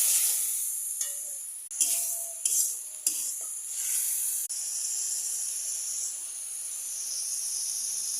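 Prawns frying with papaya in a pan give off a steady, bright sizzle and hiss. A few sharp stirring scrapes and clatters come early, then the crackle settles into a continuous frying hiss.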